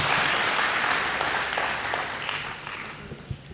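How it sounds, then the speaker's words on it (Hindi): Audience at a poetry gathering (kavi sammelan) in a hall applauding, a full wash of clapping that gradually thins and fades toward the end, moderately loud with a few isolated claps at the close. "शानदार ताली।"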